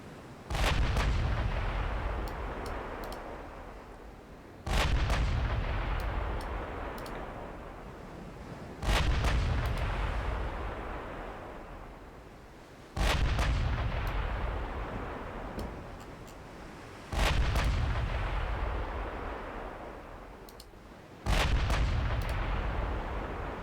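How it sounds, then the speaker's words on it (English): Heavy 16-inch naval guns fire in a warship battle game, six deep booming shots at roughly four-second intervals, each with a long rumbling decay, loud and without speech. "is that a 16-inch gun shooting at me?"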